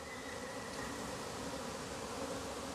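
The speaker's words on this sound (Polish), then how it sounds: "Leczenie brzękiem pszczół." Bees buzz steadily among the plants of a village garden, a dense, continuous drone close by with no pauses and no voices.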